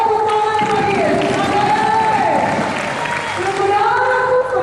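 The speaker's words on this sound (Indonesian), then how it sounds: "Lebih kuat tepuk tangan bagi Yesus." Congregation at a church worship service clapping and cheering, loud and close, a continuous wash of claps under sustained tones and voices throughout.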